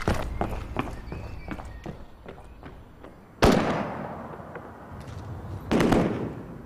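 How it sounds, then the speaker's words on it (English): Automatic rifle fire in a high street during the Hungerford massacre, heard as several rapid sharp cracks, then two loud, close bursts that ring out and decay. "Most people in the high street mistake the bursts of gunfire for fireworks, but Carl Harries knows better."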